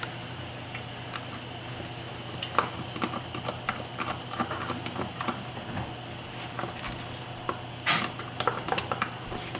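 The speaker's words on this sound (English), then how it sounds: "now we're going to add the demi" Demi-glace is poured into a hot pan for steak au poivre, giving a soft, steady sizzle with scattered clinks and stirring scrapes at close range.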